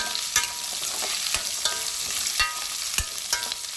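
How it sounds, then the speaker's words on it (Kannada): Five or six bay leaves fry in oil in a pan while a spoon stirs, a steady soft sizzle broken by sharp periodic scraping knocks roughly every half second, close by and without talk. "ಪಲಾವ್ ಎಲೆನ ಹಾಕ್ಕೊಳ್ಳಿ ಒಂದು ಐದಾರು ಪೀಸು ಫ್ರೈ ಮಾಡ್ಕೊಳ್ಳಿ"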